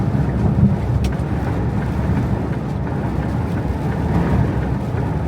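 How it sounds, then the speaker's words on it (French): Steady outdoor wind near the Dutch-German border rumbles against the microphone as a constant low buffeting roar, fairly loud and unbroken, with no voices. "Il y a du vent par ici. Hein. On sent bien le vent là."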